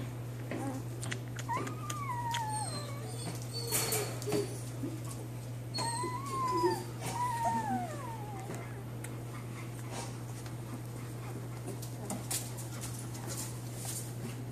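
A mother dog whimpers in high, wavering whines and thin yips, with a couple of clustered bursts over a constant low electrical hum in an indoor room.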